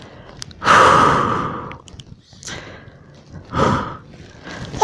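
Deep breaths drawn and released while holding the yoga child's pose (balasana), two or three slow, close, airy inhales and exhales with quiet pauses between them, no talking.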